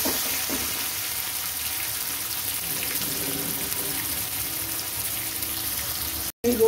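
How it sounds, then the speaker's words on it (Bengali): Onion fries in oil already used to fry garlic, a steady dense sizzle and crackle in the pan, close and continuous, ending with a brief cut and a small clatter; no talk. "এবার একটু ভেজে নেবো পেঁয়াজটা।"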